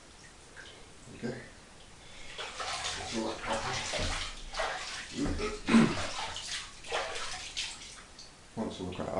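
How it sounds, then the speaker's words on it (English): Water poured and splashing over boat engine parts during a cleanup, running in uneven close bursts with someone talking over it. "Down the nozzle, pour the water over the top."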